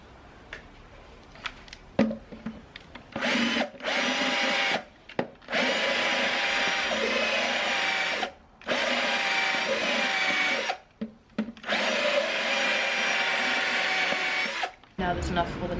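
Power drill backing a screw out of a wooden nightstand, heard as several long, loud whirring runs with short pauses between them.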